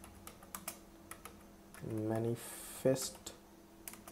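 Computer keyboard typing with soft, sparse key clicks running under a man's speech.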